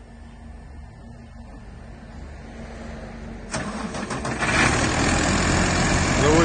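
A Versatile 250 wheeled farm tractor, its engine freshly overhauled, cranks and catches about halfway through, then settles into a loud, steady idle close by with no talking.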